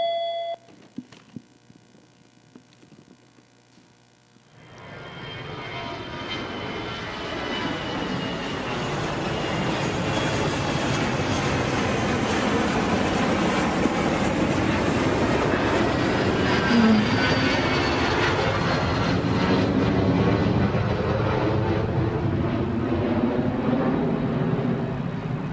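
An airplane takes off, silence giving way after a few seconds to a swelling engine roar that builds into a loud, sustained broadband rush and holds steady to the end.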